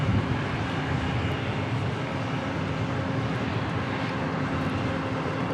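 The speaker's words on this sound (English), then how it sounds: "JetBlue is taking off to the East Coast" A JetBlue airliner takes off at San Diego International Airport, a broad, steady engine roar sustained at a constant level from a moderate distance.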